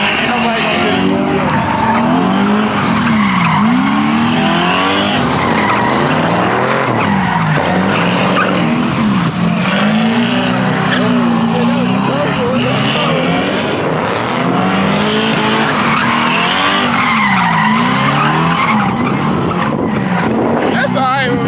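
Cars spin their tires at a hometown car meet in Virginia, with loud continuous tire squeal and revving engines for the whole stretch, close by, and people talking underneath.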